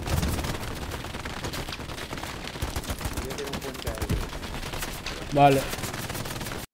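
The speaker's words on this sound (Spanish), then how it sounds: "Solo escucho explosiones y muerte." Rapid bursts of gunfire and distant blasts crackle through a busy battlefield soundscape in the game Hell Let Loose, fighting at the Remagen bridge, with a brief spoken word over the top.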